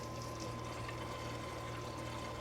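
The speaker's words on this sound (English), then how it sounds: "So I'm just gonna pour it back in" RustAid rust remover liquid being poured back into its container from a 1980 Honda CT110 auxiliary tank, a steady continuous splashing stream with a constant low hum underneath, unbroken throughout.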